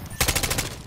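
Rapid burst of automatic gunfire in Call of Duty Black Ops 6, about five close, loud shots in quick succession lasting under a second.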